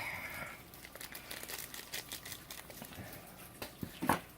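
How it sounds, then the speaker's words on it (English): Scissors cut open a plastic mayonnaise packet up close. Faint crinkling and rustling of the packet are handled quietly and end in a sharper snip. "Instead of trying to tear it, I'm just going to cut it."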